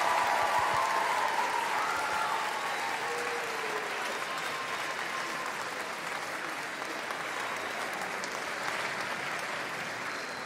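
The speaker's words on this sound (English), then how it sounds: "Big round of applause." Steady audience applause for a school music department at a house music event, a dense continuous wash of many hands clapping that holds evenly from start to finish with no talk over it.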